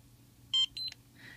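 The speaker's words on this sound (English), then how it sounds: "Let's start by turning on the scanner." A Socket 7Ci Bluetooth barcode scanner powering on gives two short, clear electronic beeps in quick succession, followed by a softer trailing tone, close up in a quiet room.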